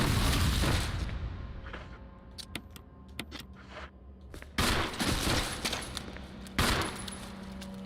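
Pistol shots in a horror video game, a series of sharp separate cracks fired in quick bursts with short gaps between them, loud against a muffled background.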